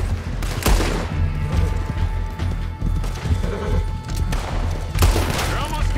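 Gunfire from the Western video game Red Dead Online: a rapid string of sharp shots and booms, with a second burst near the end, playing loudly over game ambience.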